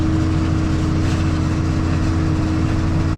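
A tractor engine works steadily while pulling a drill planting cover crops in a field. Its low, loud drone holds even throughout without a break.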